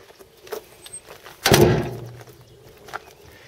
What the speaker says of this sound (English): Here's your back door.